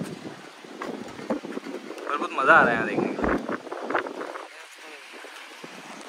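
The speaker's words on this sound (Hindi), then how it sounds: "बहुत हवा चल रही है" Strong outdoor wind buffets a phone microphone on Sunday Street in India, rumbling and gusting throughout while people talk over it.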